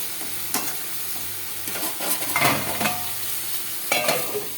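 Fish-oil curry with turmeric is stirred in a frying pan, a steady close sizzle broken by several distinct scraping strokes of the spoon against the pan.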